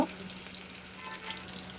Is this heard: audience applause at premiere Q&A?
no